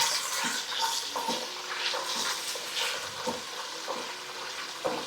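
Drumsticks, onions and carrots fry in oil for sambar, giving a steady close sizzle with bursts of spoon stirring and scraping against the pot, no talking.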